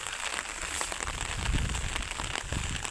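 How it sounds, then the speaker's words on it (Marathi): Steady rain falling on a surface, a dense patter of drops with a continuous hiss throughout. "पाऊस पडायला लागला"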